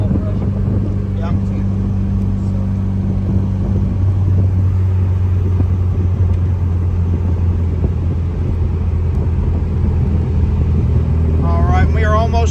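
A 1959 MGA 1600 Roadster's engine drones steadily while driving, a loud continuous low rumble with someone talking over it.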